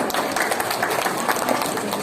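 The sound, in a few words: applause for the teachers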